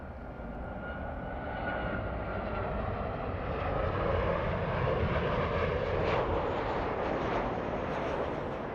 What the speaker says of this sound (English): Southwest Airlines. This one flying in from Kansas City, Missouri, Southwest 986.